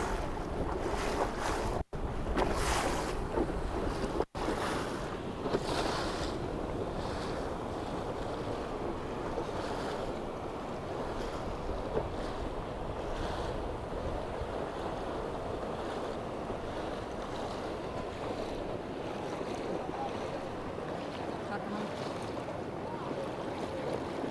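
Ocean waves at the natural pools of Porto de Galinhas, Brazil, a steady loud wash of surf and water mixed with heavy wind buffeting the microphone, continuous throughout with no talking.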